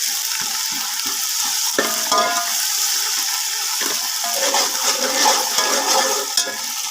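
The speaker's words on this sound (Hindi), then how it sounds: "इसे भी ऑयल में फ्राई कर लेंगे ताकि इसका फ्लेवर अच्छे से ऑयल में आ जाए।" Green chili paste frying in hot oil for a peas pulao, a steady loud sizzle with stirring scrapes and bubbling throughout.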